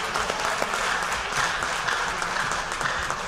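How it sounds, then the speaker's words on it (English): Applause from a seated audience at a fall athletic banquet, a steady dense wash of many hands clapping that holds at an even level throughout, with no talk over it. "So round of applause to them."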